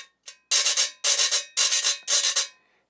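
Metal güira scraped with a metal brush in a quick merengue rhythm: a light tap, then four bursts of rasping strokes, each a rapid triple scrape, close and crisp with no talk.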